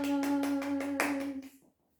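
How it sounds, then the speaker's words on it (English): Participants in a Covid rehab exercise class clap their hands in a quick, steady run of about seven claps over sustained background music, which fades out at the end. "Give yourself a round of applause."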